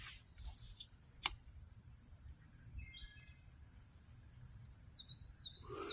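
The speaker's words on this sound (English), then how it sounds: "It's nice just kind of sitting out here listening to the bird chirping and stuff." Faint bird chirps and high trills outdoors over a low rumbling background, with a sharp click early on and a few brief calls near the end.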